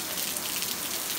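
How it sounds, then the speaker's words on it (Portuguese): Steady rain falls throughout, a dense even patter of drops on surfaces, fairly close and continuous with no talk. "Começou a chuva, gurizada."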